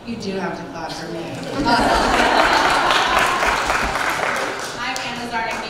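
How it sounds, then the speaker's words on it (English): Audience at a university center event claps in a dense, steady burst that swells and holds for a few seconds, mixed with chatter and a little laughter, while people speak over it. "You do have to clap for me."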